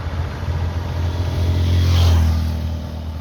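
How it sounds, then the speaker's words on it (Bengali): Big vehicles drive along a road, their engines building to a loud, low rumble as one passes close, then fading, with no talking. "সে রাস্তা দেখো বড় বড় গাড়িগুলো চলছে"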